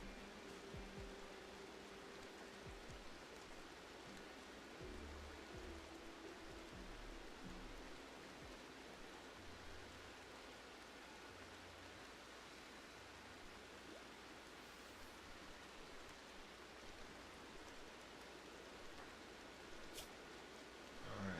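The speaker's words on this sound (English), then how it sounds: "Still raining a little bit." Steady rain in the video game Rimworld, a soft continuous hiss of falling water at low level with no breaks, faint and even throughout.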